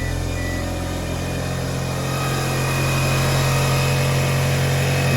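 A 1998 Eagle Talon engine idles steadily, just after its power steering and alternator belts were tightened; a close, continuous hum with a high idle and no squeal, running alone without talk.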